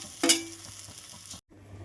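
Crushed green chilli, garlic, shallot and ginger fry in hot oil for rasam, giving a soft steady sizzle with a brief stirring scrape near the start, then a sudden cut and a quieter return.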